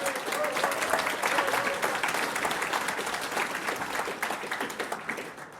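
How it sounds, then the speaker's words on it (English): An audience claps at a New Zealand business hall of fame ceremony, with broad, sustained applause from many hands that rolls on for several seconds before slowly thinning toward the end. "I'm sure you're not clapping me"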